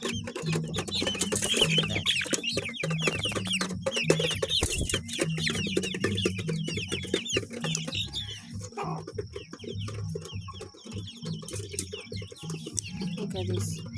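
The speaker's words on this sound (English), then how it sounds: "These are ornamental birds." Ornamental chickens cluck and chirp steadily throughout, with a dense mix of bird calls at close range and some faint background voices.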